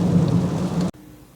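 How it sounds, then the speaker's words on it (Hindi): Heavy rain pours in a Malaysian village, a loud, dense hiss with a deep rumbling undertone suggesting thunder, ending abruptly after about a second into near quiet. "देखिए ना कैसे तेज़ बारिश हो रही है"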